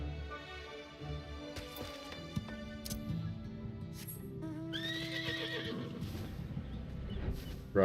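A six-legged horse mount in Final Fantasy XIV neighs and whinnies loudly over a steady run of clip-clopping hooves, with game ambience layered underneath.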